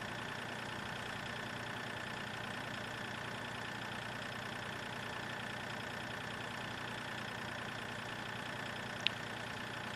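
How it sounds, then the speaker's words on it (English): Tractor engine from the video game Farming Simulator 2013, driving around an Idaho farm map, runs as a steady, even idle-like drone throughout, moderately quiet with no talking. "This is just a tractor trip around the map"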